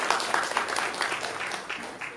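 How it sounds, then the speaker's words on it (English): An audience applauds in welcome of a theologian, principal of the Orthodox Theological College in Kottayam: steady, dense clapping from a crowd that holds through the whole stretch and eases slightly toward the end. "let us welcome him as well with a big applause"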